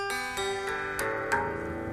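Guitar strummed with ukulele chord shapes on surf-style six-string, a few ringing chords, each strum with a bright attack that sustains and decays, played alone close up.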